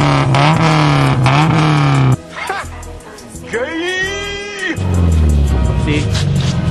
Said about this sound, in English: it definitely sounds gnarly if you want to get a quick clip of the exhaust